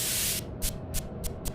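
Bug spray hisses in the video game Facility Apes 3: a steady spray sound followed by several short, quick puffs in a row, close and moderately loud.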